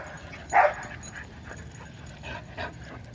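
Several dogs belonging to a neighbor make brief yips and whimpers at moderate distance, one louder burst standing out early, over steady background noise outdoors.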